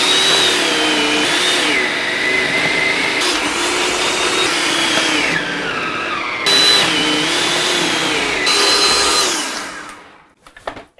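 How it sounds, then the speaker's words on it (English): A food processor grates cheese for macaroni and cheese with a loud, continuous motor whine that dips in pitch each time the cheese is pushed through, then cuts off abruptly near the end. "For the rest of the cheese, just to save time, I'm gonna grate them through the food processor."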